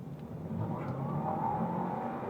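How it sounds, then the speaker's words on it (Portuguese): Audi A4 S line 2023 mild-hybrid pulling away hard from a standstill in a 0-100 launch, a steady mid-pitched engine drone rising gradually in pitch, close and continuous with no talk over it. "Então vamos lá, estolando o carro e saindo."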